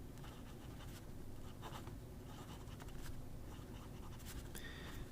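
A Hongdian D6 fountain pen writes on paper, giving soft, quiet nib scratches in short irregular strokes close to the listener, with no voices.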